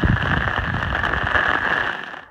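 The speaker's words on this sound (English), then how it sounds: "Rain is quieting down." Rain falling in the mountains, a steady dense hiss and patter close by that fades out toward the end, with no voices.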